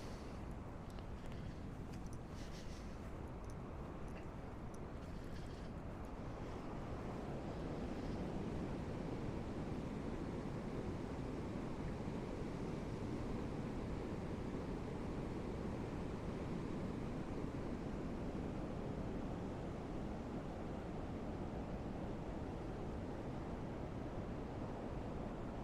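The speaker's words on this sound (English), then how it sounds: "it'd be kind of nice to listen to the water out here all night" Steady water rushing near a river lock banked with piled stone, heard outdoors on a freezing day in Ohio; a continuous broadband roar with some wind noise, holding steady throughout with no voices.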